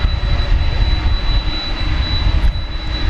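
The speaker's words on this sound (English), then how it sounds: "UPS 767, which is just revving up for a trip to Louisville." A UPS Boeing 767 revs its jet engines at DFW airport at night, a steady broad roar with a rumbling low end holding evenly throughout, with no voices.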